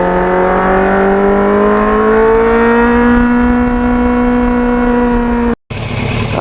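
A Kawasaki Ninja 750 motorcycle accelerates on the road, its engine rising steadily in pitch as it climbs through a gear, loud and close, then a brief cut and resumption as the rider shifts.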